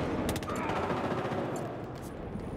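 Rapid automatic machine gun fire rattles in the online shooter Battlefield Hardline during a Conquest Large match in a downtown map, dense bursts of shots crackling continuously with a few sharper reports mixed in.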